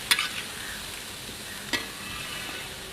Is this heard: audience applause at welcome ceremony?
no